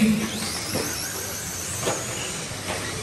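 Vintage Tamiya radio-controlled cars racing at a vintage world classic event, small electric motors whining and rising in pitch as the cars pass, with a steady buzzing drone over the track.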